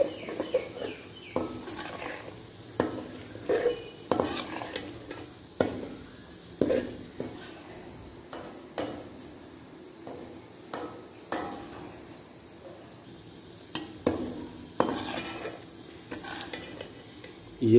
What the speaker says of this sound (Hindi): यहाँ पर सूजी को अच्छी तरह भून लेना है